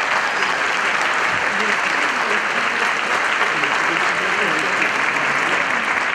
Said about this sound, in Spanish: Un aplauso para todos antes de que los presente.